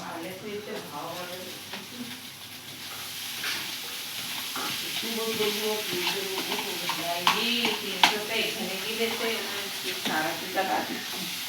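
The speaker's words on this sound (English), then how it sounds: "add the wet pohe, a little salt and sugar and stir" Wet poha with a little salt and sugar gets stirred in a pan, a soft scraping and a low sizzle running steadily beneath a voice that talks throughout.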